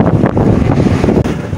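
Strong wind blows outdoors before rain, buffeting the microphone with a loud, steady low roar for a couple of seconds.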